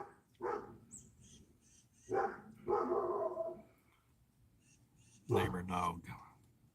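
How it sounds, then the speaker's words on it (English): A neighbor's dog barks at a distance, in a few irregular bursts, and soft voices can be heard faintly in between. "Neighbor dog."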